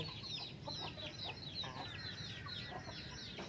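Chickens cluck softly in a quiet outdoor setting, a steady scatter of short, faint calls without any talking.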